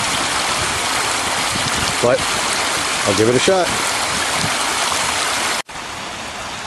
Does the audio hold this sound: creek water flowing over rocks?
yes